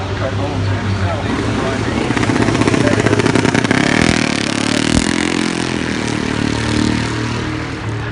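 A motorcycle engine roars loudly and steadily nearby at the Goodwood Festival of Speed, rising and falling slightly, with a voice partly audible underneath.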